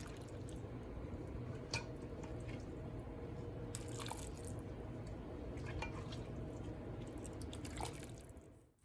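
Water poured onto dried California chiles in a kitchen to soak them for mole, a steady low rush of liquid with a few splashy, crackling bursts, close and continuous with no talk.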